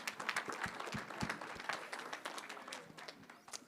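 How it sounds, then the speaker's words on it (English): A crowd gives a virtual round of applause with steady, dense clapping that continues throughout, moderately loud and a little distant. "So let's give Beth a virtual round of applause."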